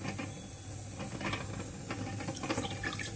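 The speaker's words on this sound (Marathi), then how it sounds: "आता आपण वरण शिजवून घेतलंय आमटीसाठी, तर ते घालूया त्यात" Cooked lentils are poured into a pot with a wet, splashing pour over a soft steady sizzle.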